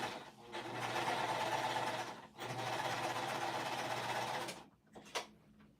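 A Singer sewing machine stitches a fabric pouch with Tex 45 thread, running in a steady whirring drone for about two seconds, then briefly pausing before a second longer run that stops near the end, followed by a short burst.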